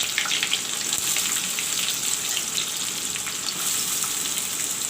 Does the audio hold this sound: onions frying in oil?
yes